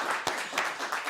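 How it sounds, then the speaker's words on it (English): Brief, close round of applause with a few sharp claps standing out, welcoming a guest onto a podcast. "Please welcome, with a warm warehouse round of applause"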